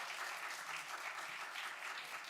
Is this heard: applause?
yes